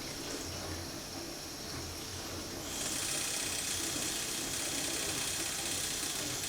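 Cold water runs from a sink tap into a container, a steady splashing rush that grows noticeably louder and brighter partway through as the flow increases, heard close and alone.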